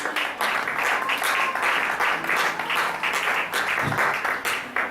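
Church congregation clapping rhythmically during a sermon, steady repeated claps from many hands, loud and sustained with some voices mixed in.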